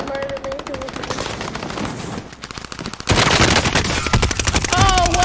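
Rapid machine gun bursts in the Modern Warfare video game, dense fast-repeating shots that grow louder and heavier midway, with faint game sounds underneath.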